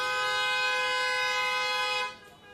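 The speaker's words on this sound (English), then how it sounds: "go ahead and honk" Car horns at a Veterans Day event blare together in one sustained, loud honk for about two seconds, then cut off sharply, leaving quiet background.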